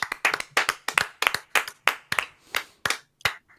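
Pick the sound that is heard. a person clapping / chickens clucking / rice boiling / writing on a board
a person clapping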